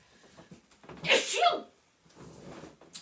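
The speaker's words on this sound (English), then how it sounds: "I have a sneeze coming out, sorry." A single sharp sneeze bursts out close by, preceded and followed by quiet speech.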